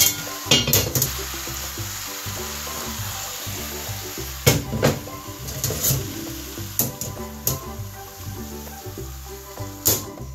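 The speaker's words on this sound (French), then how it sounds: "On mélange bien le tout." Ratatouille vegetables stirred in a pot over low heat: repeated scraping and knocking of a utensil against the pot over a soft sizzle, fairly close, no talking.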